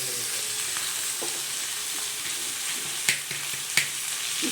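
Ivy gourd (dondakaya) frying with onions in a pan, a close, steady crackling sizzle with a couple of sharp stirring clicks near the end, no voices.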